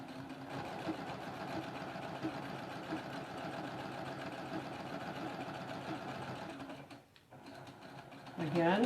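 A sewing machine stitches half square triangle quilt blocks, a quiet fast mechanical whirring and ticking that runs steadily, breaks off briefly near the end and then resumes, with soft talk running over it.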